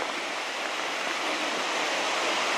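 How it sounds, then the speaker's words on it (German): Small waterfall near the Lautersee and Ferchensee lakes by Mittenwald in the Karwendel area, heard as a steady, fairly quiet broadband rush of falling water with no voices. "hier auf der anderen Seite sieht man schon ein wenig Wasserfall."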